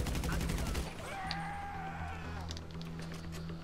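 H&K rifle fire in GTA Online: a rapid burst of loud gunshots opens, then fades into ringing and game ambience with tonal effects.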